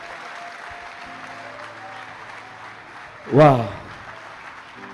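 Applause from a conference audience after a closing speech, a steady broadband patter running throughout at moderate level, with a brief voiced exclamation rising over it near the end.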